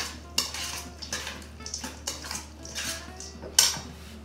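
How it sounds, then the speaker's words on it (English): Spicy cucumber salad with chilies tossed together using metal utensils, bringing a run of close clinks and scrapes against a bowl with a sharper knock near the end, no talking. "So to finish this all up, I'm gonna toss it together, give it a taste."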